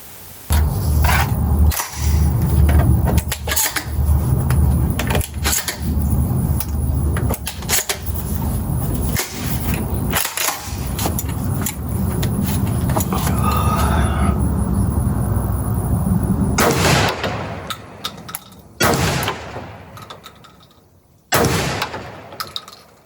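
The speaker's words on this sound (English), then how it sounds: "so that was the first time I shot this shotgun in this configuration with the short barrel." A short-barreled Benelli M2 Entry shotgun fires at a range, with repeated sharp booming reports rising over constant rushing background noise, then a few louder, more isolated blasts near the end.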